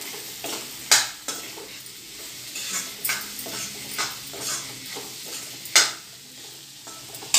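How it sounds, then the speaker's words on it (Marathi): Spicy mixed curry of field beans, brinjal and potato stirred in a pan with chilli and coriander powder, the spoon scraping in repeated sharp strokes over a steady low sizzle, close and clear with no talk. "पहिला छान मिक्स करून घेऊया आपण"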